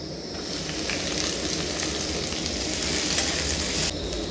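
Chopped onion sizzles loudly in hot oil in a wok after garlic, a steady close frying hiss that runs the whole time and dips only briefly near the end.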